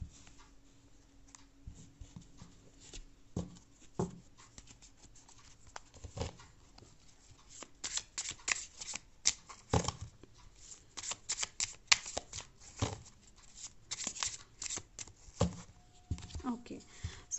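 A deck of tarot cards is shuffled during a reading, a steady close riffle and slap of cards that goes on for several seconds and grows busier, with no talking over it.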